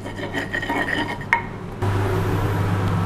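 Fish is flipped over in a hot pan for Balinese-spiced fish: a sharp clatter of utensil against pan, then a fuller, steady sizzle that holds to the end, with no talk.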